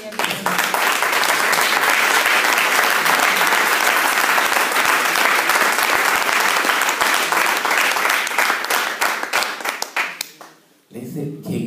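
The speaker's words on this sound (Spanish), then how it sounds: "Regálale palmas al Rey de Reyes." A church congregation claps loudly and steadily for the King of Kings, dense sustained applause that fades out near the end as a voice resumes.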